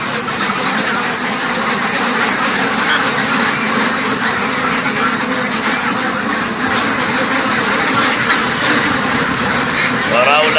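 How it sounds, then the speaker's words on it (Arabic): White French ducks on a farm quack in a dense, continuous flock chorus, loud and close, while someone talks over them. "بط ابيض يا جماعة"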